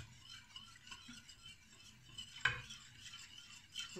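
Pudding stirred in a pot, a faint, steady scraping and swirling of a utensil with one sharper clink of metal midway.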